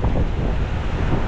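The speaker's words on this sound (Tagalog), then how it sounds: "Sobrang laki ng alon." Huge, dangerous sea waves roar in a loud, unbroken wash of surf, with heavy wind buffeting the microphone throughout and no voices.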